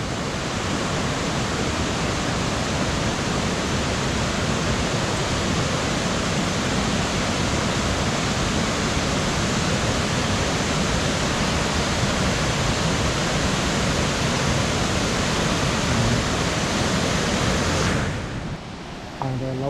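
Tad Xieng Leu waterfall in Laos makes a loud, constant, hissing roar of rushing water that stays even for most of the clip before cutting off abruptly near the end.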